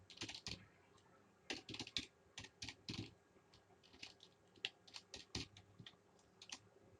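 Python code typed on a computer keyboard, quiet close key clicks coming in quick irregular clusters with short pauses between, no voices.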